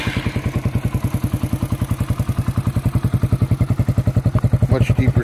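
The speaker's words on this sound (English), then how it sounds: "Much deeper sound, kind of thumpy." A Yamaha XTZ 125 motorcycle fitted with a Takegawa hybrid exhaust idles close by with a deep, rapid, steady thumping beat. The throttle blips slightly near the end.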